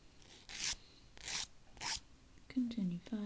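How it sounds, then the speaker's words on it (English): A nail file rasps against fingernails, rounding off the corners, in three distinct close strokes, followed by a person talking softly. "Continue filing. Just really rounding off the corners, making sure there's no sharp edges."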